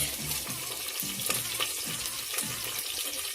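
Red chilies sizzling in hot oil for a dal khichdi tadka with cumin, green chili and curry leaves: a dense, close, continuous crackling fry with light stirring clatter, no talking.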